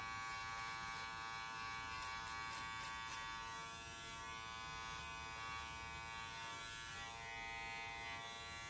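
Electric hair clippers buzz steadily while lining up a man's beard during a home buzz cut, a close, continuous hum with a few brief clicks and shifts in pitch as the blade moves.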